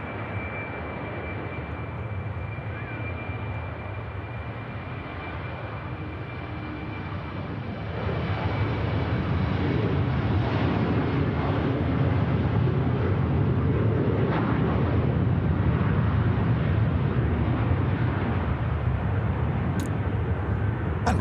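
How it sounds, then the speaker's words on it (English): Emirates Airbus A380 departing at Manchester Airport: a deep, continuous jet engine roar that swells markedly partway through and holds loud and broad to the end, with no voices. "the ground Emirates Airbus A380 is going to be departing soon here at Manchester Airport"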